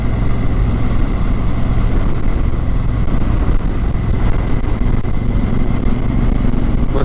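A 2017 Honda Africa Twin motorcycle engine idling with a steady, loud, low rumble throughout, close by and uninterrupted.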